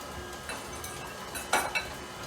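A spatula scrapes and taps against a mixing bowl while pushing flour down into pumpkin chocolate chip muffin batter, giving soft scuffs and a couple of brief clinks, close and quiet, with no talk.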